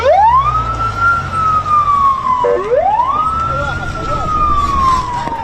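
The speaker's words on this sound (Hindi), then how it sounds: "सड़कों पर एम्बुलेंस की गाड़ियां दौड़ रही हैं" Ambulance siren wailing loudly and close on a street in Gaza, two long rising-and-falling sweeps with a brief break between them, over a background rumble of traffic.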